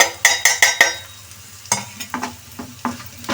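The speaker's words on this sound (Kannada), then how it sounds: "ಚೆನ್ನಾಗಿ ಫ್ರೈ ಆಗ್ತಾಯಿದೆ. ಫ್ರೈ ಆಗಿದೆ ನೋಡಿ." Egg bhurji fries in a pan, opening with four quick sharp metallic clinks of a spatula, followed by scattered scraping stirs over a quiet sizzle, close up and with no speech.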